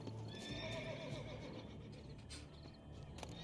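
A horse in Witcher 3: Blood and Wine whinnies with a rising, tonal neigh near the start, followed by steady hoof clip-clops and snorting, fairly close and unaccompanied by talk.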